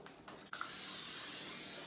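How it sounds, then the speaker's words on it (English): A steady, continuous aerosol hiss of Pam cooking spray onto a baking pan, starting abruptly after a brief pause and holding loud and even for over a second. "just finished up spraying the pan with Pam"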